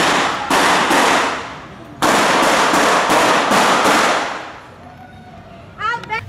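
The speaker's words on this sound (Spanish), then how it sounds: "se presentó un intercambio de disparos entre la Policía Nacional y una persona identificada como Joan Lubrido" Rapid sharp cracks of gunfire in an exchange between police and a gunman at a volunteer fire station burst in quick succession, two volleys echoing loudly, followed by a frightened voice crying out.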